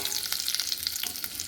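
Ingredients sizzle in oil in a pan for egg tawa pulao, a steady close frying crackle with light stirring scrapes.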